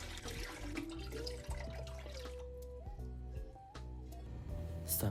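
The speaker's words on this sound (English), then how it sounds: "Now, I add some water into the big pot." Water is poured into a big cooking pot while preparing Vietnamese bún bò Huế beef noodle soup at home, giving a splashing, gurgling pour with drips and a rising tone as the pot fills.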